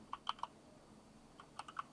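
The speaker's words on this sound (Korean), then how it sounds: "타이핑을 치고요." Computer keyboard typing on a text entry: two short bursts of quiet, crisp key clicks, a few taps around the start and another cluster near the end, with near silence between.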